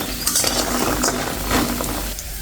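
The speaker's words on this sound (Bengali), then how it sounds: "এখন ডালের বড়িটা ভেজে নিচ্ছি" Lentil nuggets (dal bori) fry in oil with a loud, close sizzle, broken by clinks and scrapes of a utensil against the pan.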